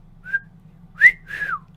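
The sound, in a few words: voice imitating a wolf whistle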